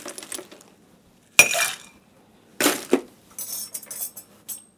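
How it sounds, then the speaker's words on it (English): Ice cubes drop into cocktail mixing glasses in three separate close clattering bursts, sharp glassy clinks and rattles with quiet gaps between, plus a few lighter clinks at the end. "And we'll ice each of the mixing glasses."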